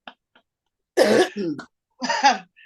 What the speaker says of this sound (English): we've both got the little Christmas cough going on as well